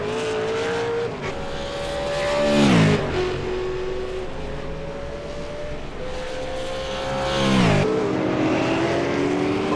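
A V8 Supercar race car howls past on the Circuit Gilles Villeneuve track, its loud engine note rising and falling with two gear-change surges, close and alone with no talk.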